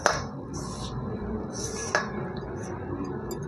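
Sugar and banana are stirred together in a metal bowl for a malpua batter, with light scraping and clinking of the spoon against the bowl at a steady pace.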